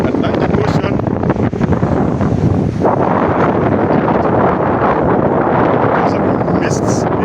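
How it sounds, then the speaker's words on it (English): Wind and Atlantic Ocean waves sound on the shore, with heavy continuous wind buffeting the microphone and broad surf wash, loud and constant throughout, and voices heard faintly at times. "That's the Atlantic Ocean."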